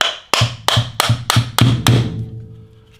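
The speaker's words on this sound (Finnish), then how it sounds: "Otetaan täältä niin sanottu kellosepän vasara ja napautetaan vähän tänne." A small watchmaker's hammer taps a Bosch Gen 4 e-bike motor shaft six times in a quick, even rhythm, each sharp metallic strike close and loud, the last ringing briefly before fading.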